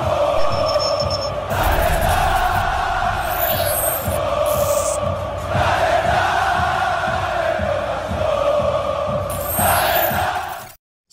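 Vasco football fans in Belo Horizonte chanting and cheering as a loud, dense crowd, with sustained rhythmic chants and swelling shouts over about eleven seconds before the sound cuts off abruptly.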